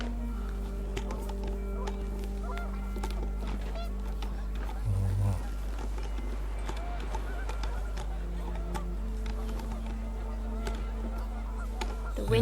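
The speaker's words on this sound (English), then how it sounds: "The wind picked up and panicked geese appeared and quickly went." Panicked geese honk in What Remains of Edith Finch, a loud burst of honking partway through, layered over a steady low wind rumble and background game sounds.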